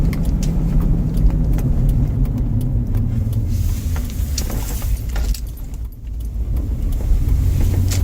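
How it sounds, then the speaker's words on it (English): Small objects rattle and clink in quick irregular ticks inside a moving car, riding over the steady low road rumble of the engine and tires. "I'm hearing a water bottle because there's a water bottle down there."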